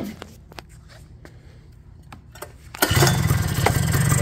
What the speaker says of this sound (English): Well, I'll start it up here. We'll see what it sounds like.